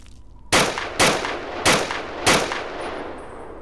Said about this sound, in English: I'm a horrible shot. I'm just gonna stop shooting now